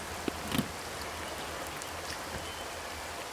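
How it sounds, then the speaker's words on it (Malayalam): Steady rain patters down in a constant wash of noise, with a couple of sharper drips near the start. "എന്തൊരു മഴ"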